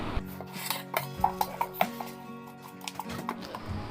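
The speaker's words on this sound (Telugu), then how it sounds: "ఇవన్నీ గరిటెట్టి శుభ్రం గెలికియాలి" A metal ladle stirring a jackfruit biryani mixture in a pot, with a series of light scraping clinks and knocks in an irregular rhythm, close and fairly soft.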